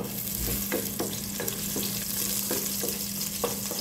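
Garlic frying in a small amount of oil, a continuous close sizzle with repeated light stirring scrapes at a steady pace.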